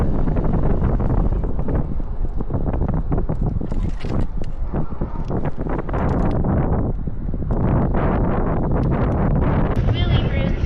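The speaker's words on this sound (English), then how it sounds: "Good old Oklahoma wind." Strong Oklahoma wind buffeting the microphone in a continuous loud roar with gusty bursts, heard from a moving ride outdoors, with people talking over it.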